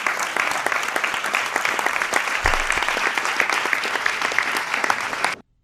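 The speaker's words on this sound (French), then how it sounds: "le public applaudit une scène vide" A theatre audience applauds an empty stage at the 104 in Paris, dense sustained clapping from a large crowd filling the room at a steady level before cutting off abruptly.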